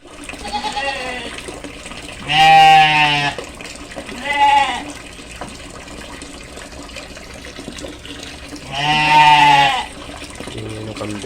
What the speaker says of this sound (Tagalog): Tingin ng kambing.